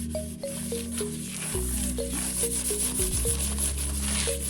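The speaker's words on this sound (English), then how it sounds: "on the side we sprayed oil, and we just try to rub it, try to spread it" Sprayed oil rubbed by hand along the side of a parchment-lined cake pan for a chocolate cake, a soft, steady rubbing that runs throughout at close range with no talk.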